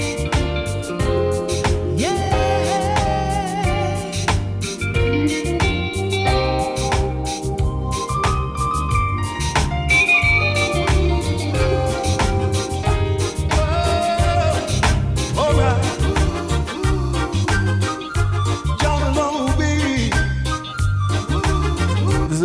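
A full music track plays with drums, bass and melodic parts, a steady groove holding at an even loudness throughout.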